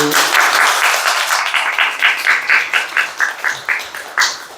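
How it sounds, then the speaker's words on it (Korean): A church congregation applauds an award winner at a year-end service, starting as a full round of clapping that thins into fewer, distinct rhythmic claps before a final clap. "박수 쳐주세요"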